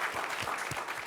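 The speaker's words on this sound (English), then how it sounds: "How about one more round of applause for Fresh Off the Boat, season premiere, episode 1" An audience at a TV premiere screening event gives a short burst of steady applause, dense and fairly close.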